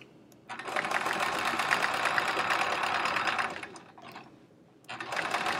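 Domestic sewing machine running in rapid bursts of stitching during free motion quilting of a chevron quilt, a close, steady mechanical whir that pauses briefly and starts again.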